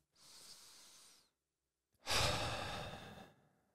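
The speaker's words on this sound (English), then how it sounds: "and taking a long breath out." Deep breathing, close and soft: a quieter inhale followed after a pause by a longer, louder breath out through the mouth.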